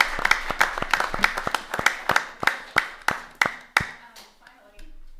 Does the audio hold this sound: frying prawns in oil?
no